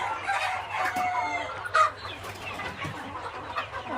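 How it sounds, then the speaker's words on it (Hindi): Sonali breed roosters of about one kilogram and hens on a poultry farm keep up a continuous jumble of clucking and crowing, with a few sharper calls standing out over steady farmyard background noise. "ये सोनाली के बड़े मुर्गे हैं जो 1 किलो साइज़ तक मुर्गा हो गया है, और उसी के नीचे मुर्गियां हैं"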